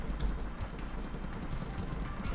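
Horse hooves clip-clop in the SNES video game Sunset Riders, a steady, fast galloping patter under dense game sound, with no talking.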